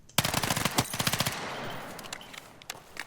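An SMG tap-fired in Battlefield 6: a rapid run of short, sharp gunshots in quick bursts, followed by a fading echoing tail and a few scattered later shots.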